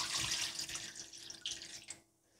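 Water runs from a faucet into a pan holding tteokbokki rice cakes, a steady close splashing stream that cuts off near the end.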